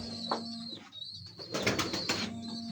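Pure Kasuri pigeons cooing on a Faisalabad rooftop, a few soft low coos near the microphone with a brief flutter of wings and some background noise.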